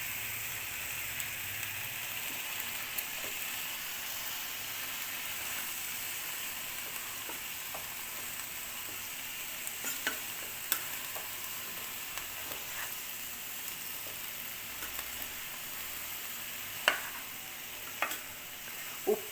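Cauliflower being stirred and fried in a pan for a spiced vegetable dish, with a steady soft sizzle and scattered scraping and clinking of the spoon throughout, no voices.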